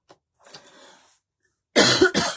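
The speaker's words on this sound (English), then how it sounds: "I just don't want to keep coughing in your ears" A couple of harsh, loud coughs burst out near the end, after a quieter stretch of faint breathy sound.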